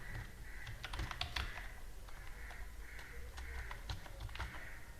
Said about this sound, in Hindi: टाइप करना पड़ेगा।